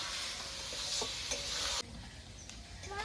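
Yogurt-marinated meat with jackfruit is stirred and sautéed in a pan, with a close sizzle and spoon scrapes that suddenly drop to a quieter, softer frying hiss partway through.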